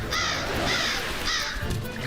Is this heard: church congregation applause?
no